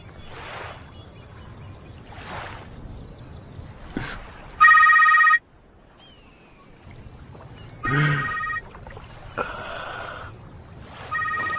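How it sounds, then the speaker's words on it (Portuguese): Telephone ringing, sharp electronic ring bursts repeating at intervals amid quieter ambient sound and other film noises. "Atenda o telefone, Jake."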